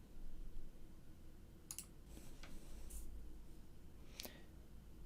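Computer mouse right-clicks on a PC during a server software install, a few sharp isolated clicks over a quiet hum, with no voices.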